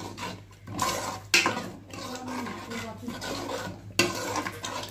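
Cardamom and cinnamon powder are stirred into mustard, spinach and fenugreek greens in a pan, making repeated scraping strokes over a soft sizzle with a few louder knocks against the pan.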